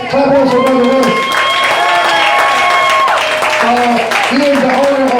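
Applause at an awards ceremony ball as an honoree is called up, clapping from the crowd heard under and around a loud voice and background music, short and busy.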